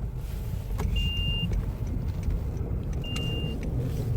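Honda hybrid car driving on electric power, a low steady rumble of road and cabin noise with two short faint electronic beeps, no voices.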